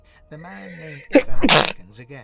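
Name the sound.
sneeze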